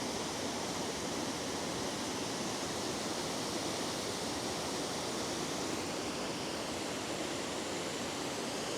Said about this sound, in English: Check out this waterfall though.